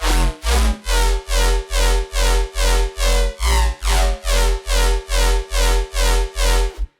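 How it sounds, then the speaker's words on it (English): Layered sub bass and mid bass from an electronic production, a loud, buzzy, distorted tone pulsing in a steady rhythm of about two hits per second, heavy low end throughout, ending abruptly. "together we've got both the sub and the mid bass, and that sounds like this"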